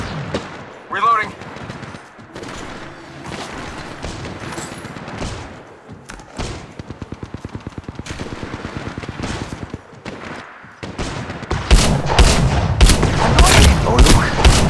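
Gunfire in Apex Legends Mobile: scattered single shots give way to a rapid, evenly paced automatic burst, then heavy loud firing and impacts near the end, with game voice callouts in between.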